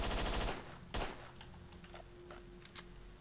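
Gunfire from a weapon in S.T.A.L.K.E.R.: Shadow of Chernobyl, a rapid automatic burst in the first half second, then a single loud shot, followed by scattered fainter clicks and pops.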